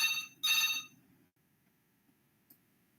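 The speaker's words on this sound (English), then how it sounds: "Oh, I have a phone coming in." A telephone rings in two loud bursts, a short one then a longer one, followed by near silence with a faint click, heard during an online steel design lecture.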